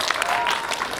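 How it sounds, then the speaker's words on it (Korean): Cinema audience applauding at a stage greeting for a Korean film's opening week, a brief burst of dense clapping and cheering in a hall, loud and steady. "박수 좀 많이 부탁드립니다."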